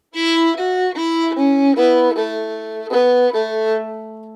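A solo fiddle in AEAC# tuning plays a short phrase of the old-time tune Lost Indian in separate bowed notes, clear and close, settling onto a sustained final note.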